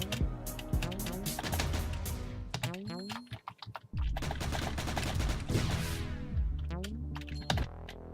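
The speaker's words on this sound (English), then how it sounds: "Very fast firing shotgun too." Rapid fire from a fast-firing shotgun in the video game Cally's Caves 3, a dense loud stream of sharp shots over game music with a brief gap midway.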